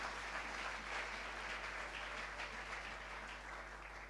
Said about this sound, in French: est-ce qu'on peut encore acclamer la parole du Seigneur?